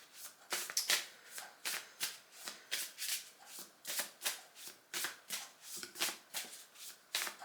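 Earth Blessings oracle cards are riffled and shuffled by hand, a rapid series of crisp, close flutters and snaps repeating steadily for several seconds in a quiet room.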